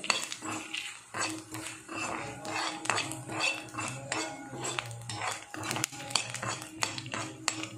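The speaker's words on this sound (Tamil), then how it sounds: "கொஞ்சம் தனியா, இதை நல்லா வறுத்துட்டு அது கூட முந்திரி பருப்பு வச்சு அரைச்சிடுவோம்" Coriander seeds dry-roasting in a pan for a no-onion, no-garlic tomato kurma, stirred with a metal spoon that scrapes and clinks repeatedly against the pan in an uneven, busy rhythm, close and clear.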